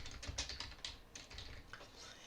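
Close, quiet typing on a computer keyboard while searching for a PDF reader on an Ubuntu Linux desktop, with a quick, uneven run of light key clicks and no talking.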